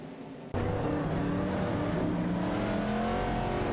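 Race cars, a Dodge Dart and a 1970 AMC Javelin, roar in a video game race, engines kicking in abruptly and then holding a loud, sustained, rising and falling whine, close up and without talk.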